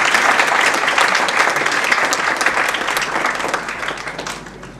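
A seminar audience at the University of Gujrat claps warmly and continuously to welcome Professor Dr. Anwar Ahmad to the chair, the dense applause gradually thinning and fading toward the end.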